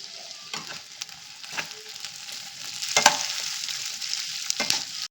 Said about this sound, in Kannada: ಒಣಗಿದ ಮೆಣಸಿನ್ಕಾಯಿ, ಕರಿಬೇವಿನ ಸೊಪ್ಪು, ಕಸೂರಿ ಮೇಥಿ ಹಾಕ್ಕೊಳ್ತಾ ಇದ್ದೀನಿ. ಇದೆಲ್ಲ ಫ್ರೈ ಮಾಡ್ಕೊಳ್ಳೋಣ.